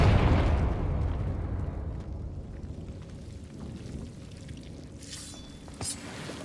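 Confringo fire spell from Hogwarts Legacy, a loud fiery blast at the start that rumbles and crackles down into a long fading roar, with a couple of sharp pops near the end.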